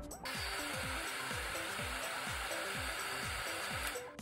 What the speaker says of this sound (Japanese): ピューラーをドライヤーで温めていきます。